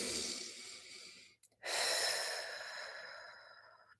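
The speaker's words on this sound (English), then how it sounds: "Now, take 3 breaths with me." Two slow, deep breaths, a long airy inhale then a fuller exhale, close and soft in a quiet room.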